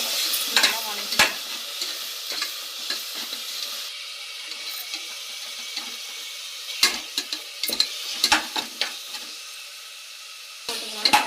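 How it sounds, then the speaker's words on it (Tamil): Ginger garlic paste sautéing in oil for veg biryani, a quiet steady sizzle broken by sharp spoon scrapes and clinks against the pan. "இப்போ வந்து நம்ம இஞ்சி பூண்டு பேஸ்ட் இதில் கலந்துக்கலாம். இது பச்சை வாசனை போகிற வரைக்கும் நல்லா வதக்கிக்கலாம்."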